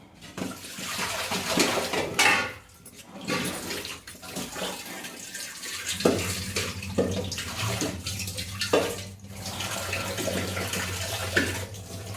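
Fenugreek leaves are rinsed in a basin of water, giving steady splashing and sloshing with brief pauses, close and fairly loud throughout with no talking.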